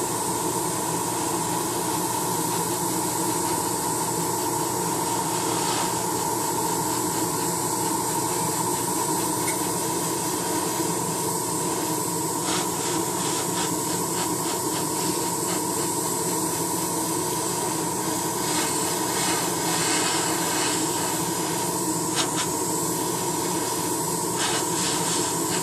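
A Rust-Oleum primer spray paint can sprays in a long, steady, close hiss that carries on almost without a break, with faint sputters and brief changes in tone here and there and no voices.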